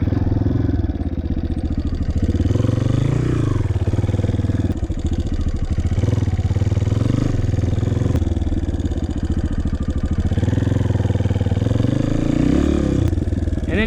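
Dirt bike engine idling and pulling through a tight right-hand turn in soft sand, a steady close motorcycle drone with a mechanical clatter that rises and dips slightly throughout.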